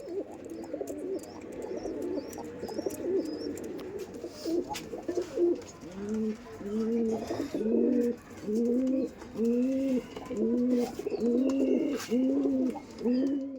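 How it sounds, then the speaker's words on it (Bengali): Punjabi pigeons coo repeatedly in a steady rhythmic series, close and clear, with faint chirps from other birds in the background. "not just quality Payra বিবেকদের Payra"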